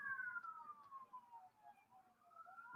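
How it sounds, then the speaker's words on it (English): A faint police siren wails in the distance, heard from inside a house, its pitch sliding slowly down and back up as it passes at high speed, with no talking. "just hear the sirens going by in my house at like breakneck speed"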